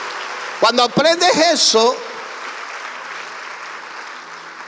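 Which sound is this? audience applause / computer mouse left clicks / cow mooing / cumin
audience applause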